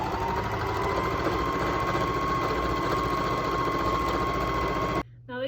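A sewing machine set to a short stitch length sews a seam in bias-cut fabric for a bias tube, a steady close mechanical hum and rapid needle clatter that stops abruptly near the end.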